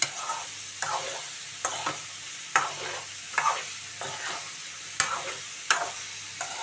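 Cucumber pieces cooking in a pan are stirred repeatedly, each scrape of the spoon landing in a loose rhythm over a soft, steady sizzle, close and fairly loud.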